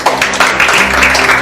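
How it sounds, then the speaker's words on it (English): A crowd aboard a cruise ship claps together in steady, loud applause with rhythmic bursts of hand claps filling the short stretch. "I want to make a big applause to all of you because you did a very good job"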